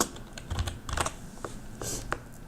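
Typing on a computer keyboard, a quick, close run of irregular key clicks in short bursts, heard alone without talk.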